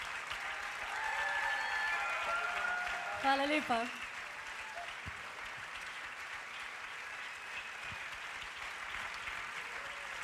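Concert audience applauding steadily at a pop-jazz festival, dense clapping throughout with a brief louder swell and a voice speaking over it.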